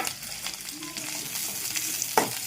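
Onion and green chilli frying in a little oil give a steady close crackling sizzle, with light scraping of a spoon stirring through it and a small clink near the end.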